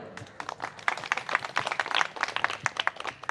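Women seated at a periods awareness session in a slum clap in a scattered, uneven patter, fairly faint and close, with a little background murmur.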